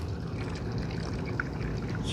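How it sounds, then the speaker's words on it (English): About 30 ml of cleaning solution poured through a funnel for palm injection equipment, a short continuous trickle of liquid heard close up with a faint splash near the end. "we're just going to pour about maybe 30 milliliters in here"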